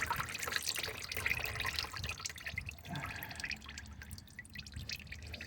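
Engine oil drips and trickles from the drain of a 2010 Honda CR-V during an oil change, a steady close liquid patter with sharper drip hits throughout.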